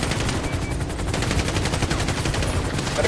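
Bursts of rapid automatic gunfire in a video game hostage situation rattle loud and close in a steady rhythm across the whole stretch, with no voices.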